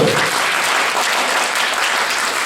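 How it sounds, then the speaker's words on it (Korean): An audience on a Korean talk show stage applauds in a dense, loud, continuous wash of clapping as people come up to join the host. "박수로 맞아야겠습니다"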